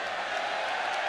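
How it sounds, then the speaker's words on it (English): A boxing crowd cheering in a Liverpool arena: a dense, steady roar of voices filling the hall, moderately loud and unbroken over a brief moment. "Crowd getting into it."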